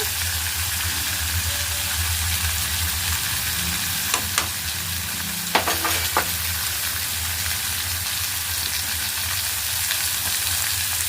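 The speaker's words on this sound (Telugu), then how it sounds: "పసుపు మంచిగా కలుపుకోవాలి" Beans frying in a pan while turmeric is stirred in, a steady close sizzle with a few sharp spoon knocks and scrapes partway through, no talking.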